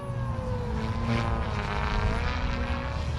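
An OMP Hobby M4 RC helicopter on a bench test whines steadily with a close, loud rotor and motor drone, its pitch dipping slightly as it bogs under hard collective.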